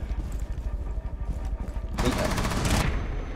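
A loud burst of rapid automatic gunfire in Rainbow Six Siege erupts partway through and rattles on for just under a second, following quieter low rumbling game sound.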